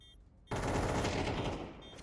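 A burst of rapid gunfire in a Counter-Strike match cuts in sharply after a brief quiet, a loud, dense rattle of shots lasting about a second and a half before easing off.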